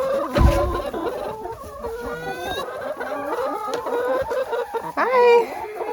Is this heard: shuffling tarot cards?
no